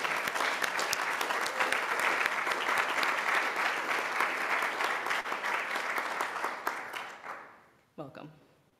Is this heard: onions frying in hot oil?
no